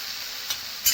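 Garlic paste frying in oil for a spiced pumpkin-seed curry, a brief steady hiss of sizzling with a couple of soft stirring scrapes, close and alone.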